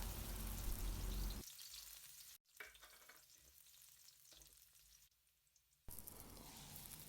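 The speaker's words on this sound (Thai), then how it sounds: "ใส่กระเทียมสับและผัดให้หอมค่ะ" Chopped garlic stir-frying in rice bran oil in a hot pan, a steady soft sizzle with light crackles and occasional stirring scrapes, loudest at the start and then quieter with brief pauses.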